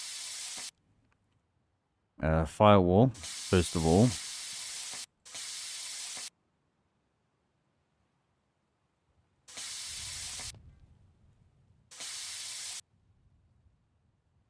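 In the My Garage game, a plasma cutter slices into a car firewall in several short, loud hissing bursts separated by silence. Someone speaks briefly between the first bursts.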